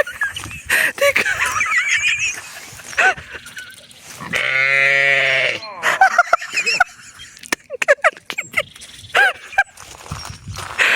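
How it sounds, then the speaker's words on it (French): A ewe bleats once in a long, wavering cry in the middle, between stretches of French conversation from several people nearby. "C'est une brebis."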